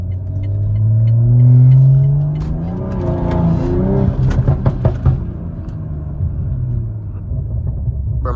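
A 500 hp BMW with traction control off revs hard and spins its tires on a late-night street, a loud rising engine roar swelling then breaking into choppy, squealing wheelspin that fades into a steady drone.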